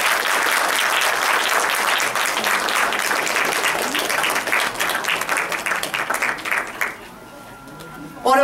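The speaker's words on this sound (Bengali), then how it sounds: "আরেকবার জোরে হাততালি হয়ে যাক সবার জন্য" An audience applauds loudly and steadily for several seconds after a stage performance, then the clapping thins out and fades near the end.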